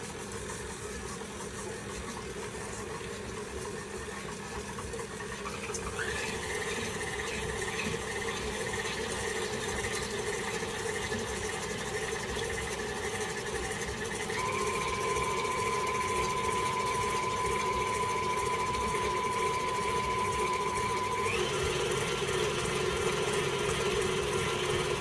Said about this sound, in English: we're gonna turn our mixer on, and we are gonna start to get these things combined together